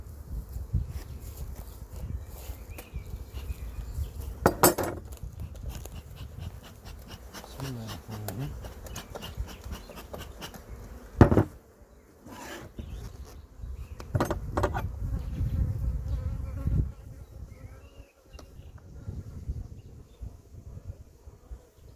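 Honeybees buzz steadily around a hive entrance crowded with drones, a low droning hum with occasional knocks and handling noises as a hive box is added, and a person speaks briefly in Turkish at times.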